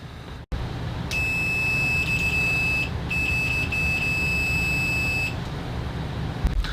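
Neoteck HK48C+ multimeter giving a continuity-test beep: a steady, loud, high-pitched electronic tone holding for several seconds, briefly broken once midway, then stopping, over a low background hum.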